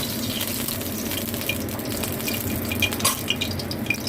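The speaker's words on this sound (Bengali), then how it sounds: "এই আমার তেলটা কড়া গরম হয়ে গেছে, আমি তেলটা দিয়ে দিলাম।" Mustard oil poured into a very hot pan while cooking, giving a steady, close sizzling hiss with a few sharper crackles toward the end, and no talking.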